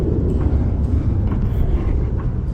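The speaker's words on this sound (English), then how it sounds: "Can you hear that sound? That's a plane." Loud, steady low roar of an airplane flying out of or landing at Entebbe airport in Uganda, a continuous rumble heard outdoors with no talk over it.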